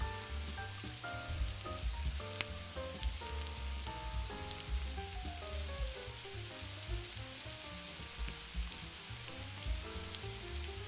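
Garlic fries in a pan with a steady, close crackling sizzle that holds evenly throughout, a faint melodic background line running underneath and no talking.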